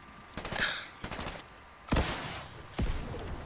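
Gunshots in a Fortnite Zone Wars match come as a quick rattling burst followed by two louder, separate blasts, each with a brief fading tail over background game noise.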